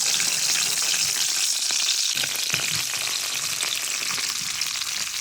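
Cumin seeds frying in fish oil left from cooking rohu, for a leafy gourd-greens dish, give a steady, dense sizzle with crackling pops, close and fairly loud, no voices.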